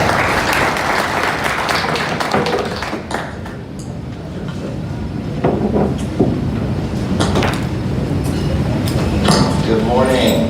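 Applause at an AWS Blockchain Day event for speaker Daniel Winston, a room of people clapping steadily, mixed with shuffling, bumps and other hall noise that continue after the clapping eases.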